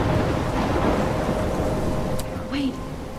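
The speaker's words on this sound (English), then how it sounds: "The rain is too loud." Heavy rain and storm noise in the video game Life is Strange, a steady wash of rainfall with a brief whistling gust near the end and a short voiced sound over it.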